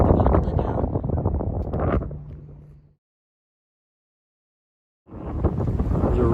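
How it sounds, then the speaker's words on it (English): Strong wind at the top of Stone Mountain by the gondola station, buffeting loudly for about three seconds, cutting to silence, then gusting back in just as hard. "It's very windy."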